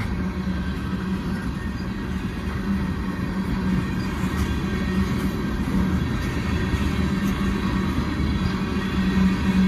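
A long CN freight train rolls past in a steady, continuous low rumble with faint wheel and car clatter and a thin high squeal, loud and unbroken throughout.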